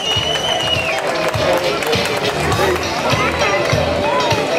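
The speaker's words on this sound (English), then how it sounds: "Let's keep giving them a round of applause." School audience at a word parade gives a continuous round of applause, a thick, loud patter of many hands mixed with children's chatter and voices.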